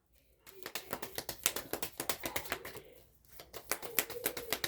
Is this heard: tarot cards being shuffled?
yes